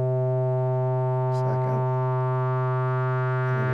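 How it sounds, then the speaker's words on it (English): Steady buzzing analog modular synthesizer drone with strong resonant overtones as filter resonance is raised, a brief squelchy filter sweep rising through it midway and again near the end. "So when we put the resonance on, we get these great views of the harmonics."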